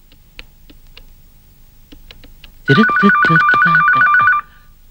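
A telephone rings loudly in one steady warbling burst lasting nearly two seconds, preceded by faint clicks and quiet background.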